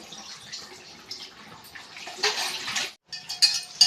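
Water sloshes and splashes in a small container as wheat grains are swished by hand. It pauses briefly, then resumes with a few louder splashes.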